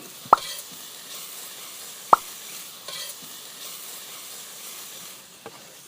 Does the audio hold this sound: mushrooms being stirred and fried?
yes